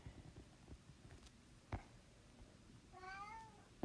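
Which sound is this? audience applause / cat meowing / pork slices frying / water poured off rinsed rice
cat meowing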